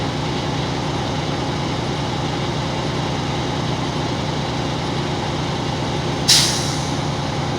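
A truck's air brake releases pressure in one sharp, loud hiss near the end, cutting over a steady idling engine rumble, with no talking.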